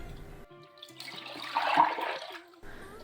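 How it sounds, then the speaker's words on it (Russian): Bottles rinsed under running tap water, a steady splashing rush that swells in the middle and then cuts off, with faint clinks before and after. "споласкивайте бутылочки под проточной водой"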